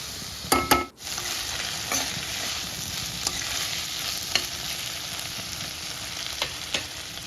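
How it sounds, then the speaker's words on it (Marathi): Onions and tomatoes are sautéed in oil in a wok, with a continuous bright sizzle and occasional spatula scrapes and taps. A sharp knock comes near the start, all close and fairly loud. "टोमॅटो पण असे व्यवस्थित परतून घ्यायचे"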